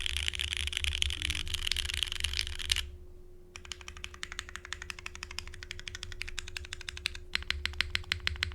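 Typing on a Transition Lite TKL mechanical keyboard with Nixie switches and a Ghost Dragon spacebar produces close, rapid clacking keystrokes in quick bursts, broken by a brief pause before the fast typing resumes.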